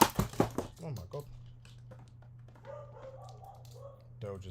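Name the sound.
dog barking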